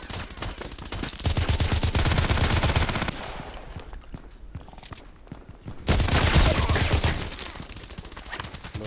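Rapid automatic assault rifle fire in the video game Contract Wars, two loud sustained bursts of dense, evenly spaced shots separated by a quieter pause, with no talk.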